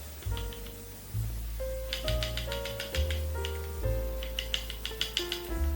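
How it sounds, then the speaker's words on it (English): Soft metallic bracelet jingles come in short clusters of light clinks, faint and close, over a quiet tonal background. "The sound you hear is my bracelets."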